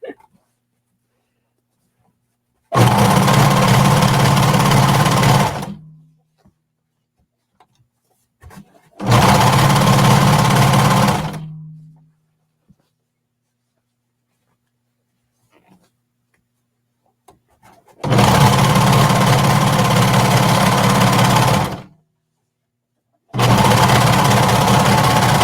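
Sewing machine stitching a jacket, in four loud close bursts of rapid even whirring separated by quiet pauses.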